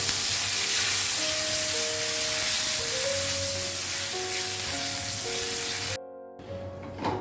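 Curry leaves and split dried red chillies crackle and sizzle in hot oil for a Kerala-style chutney tempering, a loud, dense, steady hiss with sharp spits throughout, briefly dropping out near the end before resuming.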